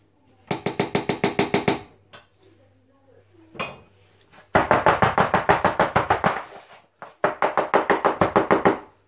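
A chocolate bar is tapped in a home kitchen while an economical dessert is prepared: three bursts of quick, sharp, evenly spaced taps, separated by brief pauses, close and fairly loud.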